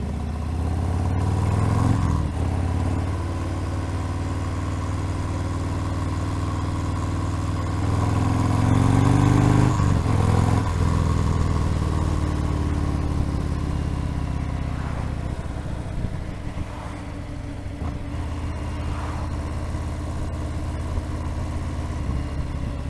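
A Harley-Davidson Fat Bob 114 motorcycle engine rumbles steadily while riding, with the low throb rising and falling through a few throttle changes under rushing wind noise.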